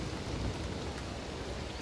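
Steady rain in the video game Don't Starve Together, a dense continuous hiss of falling drops heard alone without talk, even and unbroken throughout.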